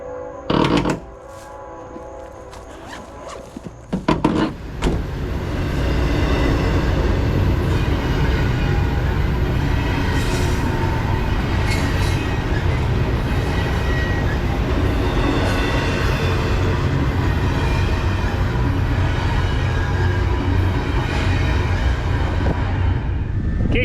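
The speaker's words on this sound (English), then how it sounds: "I hear a freight train going by." A few sharp knocks, then a freight train rolls by with a heavy, steady rumble and rattling wagons that continue without letup.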